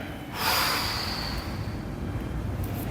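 A person doing back mobility lunges against a wall takes a single sharp, close breath in, then a softer airy exhale that trails off, with no talk.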